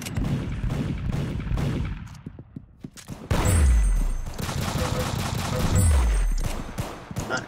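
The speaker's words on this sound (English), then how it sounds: "I was just shooting into the air." Rapid bursts of gunfire from the pepper gun, an automatic machine-gun style weapon in the Roblox game Arsenal, fired into the air; loud sustained volleys with booming low thuds, over game background noise.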